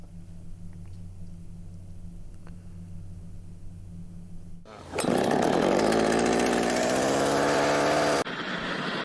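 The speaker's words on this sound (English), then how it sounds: "Vern in Southampton says, Mike, the Tory MP with the chainsaw needed a stunt double to actually use the chainsaw" Quiet low rumble, then a chainsaw suddenly roars into life close by, running loud and steady for a few seconds before abruptly dropping to a lower level.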